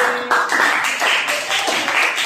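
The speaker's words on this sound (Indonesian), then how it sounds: "tepuk tangan untuk kelompok ini" A classroom of students claps for a group of classmates, a modest, uneven patter of hand claps continuing steadily at moderate loudness.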